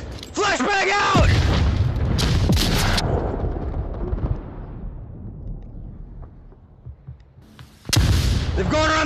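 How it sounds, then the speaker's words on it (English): Flashbang grenade detonating in the VR shooter Onward during a police-style raid, loud sharp booms at the start and near the end with a long decaying roar between, and players shouting over it. "Flashbang out!"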